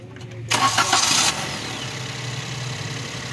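A 2022 Maruti Suzuki Alto engine is cranked with the starter, giving a short, loud burst of cranking before it catches and settles into a steady, close idle hum.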